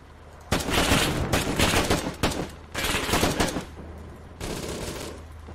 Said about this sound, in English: We're heading to that machine gun fire